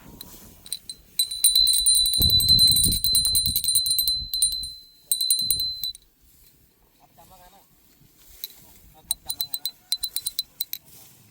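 A small bell rings with bright, sustained tones during a rice-bundling harvest day in the fields, then gives a few quick clinking rings later, with voices and handling noises in between.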